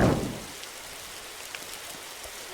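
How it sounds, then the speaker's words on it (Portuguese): Steady rain hisses in a survival video game, a dense even wash of falling drops that continues alone throughout with no voices over it. "Ô, chuva, pare logo! Chuva chata."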